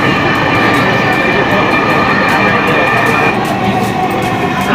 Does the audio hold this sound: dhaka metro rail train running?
yes